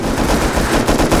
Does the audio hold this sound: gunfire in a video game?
yes